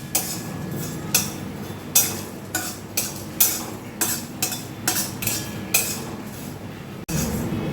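Whole spices popping in a hot dry pan with the flame switched off, giving sharp irregular crackles and pops spread through the clip, close and fairly loud, with no talking.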